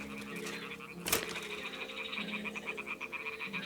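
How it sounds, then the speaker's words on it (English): Toads in Kingdom Come: Deliverance II croak in a steady, pulsing chorus with a rhythmic trilling quality, broken briefly by a sharp rustling burst near the start. "the toads are croaking here"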